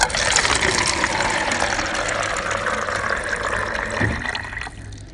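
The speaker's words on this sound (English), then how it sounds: "a water dispenser" Water dispenser running in a hospital waiting room, a steady broadband rush of flowing water with a low pump hum, fairly loud and continuous for several seconds before tapering off near the end.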